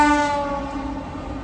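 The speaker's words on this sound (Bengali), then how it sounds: "কোশিকোলানের 4 নম্বর প্ল্যাটফর্মে আমাদের ট্রেন ঢুকেছে" A train from Haridwar pulls into platform 4 at Kosi Kalan station. A loud tonal horn blast fades quickly into a steady rolling rumble of the railway cars, with no speech.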